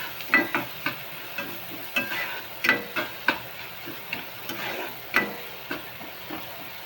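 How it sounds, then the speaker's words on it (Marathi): Chopped onion stirring and frying in a pan alongside dried small shrimp (sukat) for a bhaji, with spatula scrapes and stirs clicking in an irregular rhythm over a soft, steady sizzle, close and moderately loud. "कांदा चांगला भाजून घेऊया."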